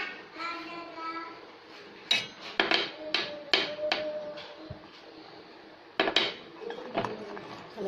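Cardamom going into a pot of badam kheer, followed by a spoon stirring and knocking against the metal pot in several sharp clinks and taps, with a faint voice and quiet kitchen background between the hits.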